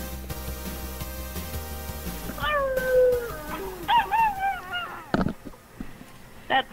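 A dog howls over a voicemail recording, long wavering rising-and-falling cries in several drawn-out bursts, with a few sharp knocks between them.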